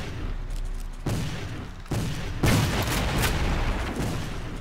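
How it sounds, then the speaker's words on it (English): Henry lever-action repeating rifle shots in the Civil War: Secret Missions video game, several loud cracks fired one after another at uneven intervals over a dense ambient battle bed. "I'm holding the Henry rifle"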